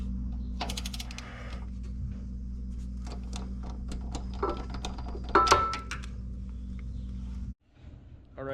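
Bolts for a Kinetic Structures motor mount are fastened on a 2009 Harley-Davidson Dyna, with close ratcheting clicks and metal taps over a steady background hum.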